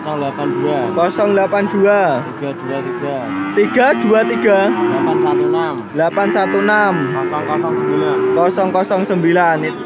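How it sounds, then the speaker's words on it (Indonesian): Cattle for sale at a Javanese livestock market moo repeatedly in overlapping calls, some near and loud, with busy crowd chatter and voices running underneath. "Itu tadi sapi-sapi dagangan Pak Mat letak"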